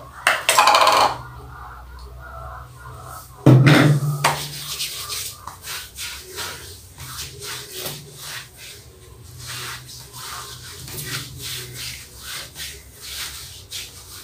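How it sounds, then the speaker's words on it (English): Shea butter body balm is rubbed onto skin in soft, close strokes that repeat at a gentle, irregular rhythm, with a couple of louder bumps and handling knocks near the start. "I'm going to use this shea butter body balm on my skin."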